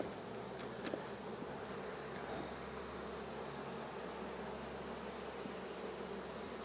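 A dense swarm of honeybees hums steadily around a sticky hive frame full of honey during a heavy nectar flow, a soft, continuous, fairly faint buzz with no voices.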